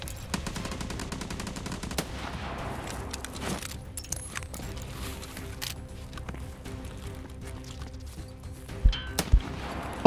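Rapid bursts of gunfire from a gun in the video game Escape from Tarkov crack close by in repeated volleys, followed by scattered single shots and sharp impacts, with no talk.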